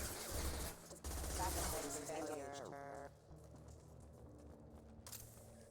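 SMG gunfire in the Mass Effect video game, a loud rattling burst up front that drops away after a few seconds, with someone talking over the game sounds.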